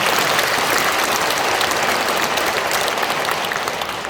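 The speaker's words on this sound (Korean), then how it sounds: "박수 한번 쳐볼까요?" Sustained applause from a church audience at a Catholic online-mission talk in Korea, a dense steady wash of many hands clapping together at an even level, with no voices over it.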